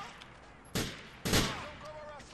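Two sharp bursts of gunfire in the video game Grand Theft Auto IV ring out clearly over a quieter background, the second burst longer and louder than the first.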